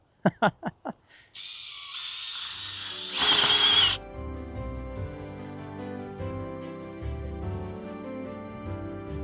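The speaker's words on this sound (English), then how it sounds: "This is like a 60-volt brushless DeWalt something or other, right?" A brand-new DeWalt 60-volt brushless power tool bores small planting holes in garden soil. A few sharp knocks come first, then a steady motor whine with a brief loud gritty burst as it digs, all close by.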